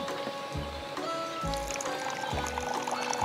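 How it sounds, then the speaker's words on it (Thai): A cup of hot water is poured in a few short splashing bursts against a faint background hum, quiet and close. "อันดับแรกเธอลองเทน้ำหนึ่งถ้วย เทไปเลย"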